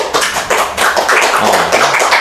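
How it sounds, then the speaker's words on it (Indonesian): An audience at a panel discussion on election ethics breaks into lively clapping, a close, busy patter of many hands that stays loud and even across the whole stretch. "tepuk meriah dari penonton yang ada di sini"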